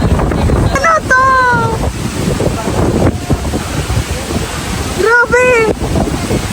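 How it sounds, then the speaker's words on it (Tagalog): Strong ocean waves surge onto a beach at Boracay, a loud, continuous rush mixed with heavy wind buffeting the microphone, while people nearby shout excitedly over the surf. "Sobrang lakas ng alon."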